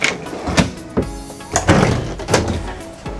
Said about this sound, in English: You have self-closing doors